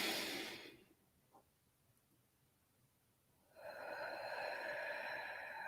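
A person draws a deep, audible breath in through the nose, then after a quiet pause lets out a long, breathy exhale; close and fairly soft.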